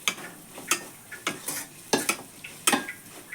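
Turmeric and chili powder being sautéed for beef curry, a spoon scraping and knocking against the pan in irregular strokes over a soft, low sizzle.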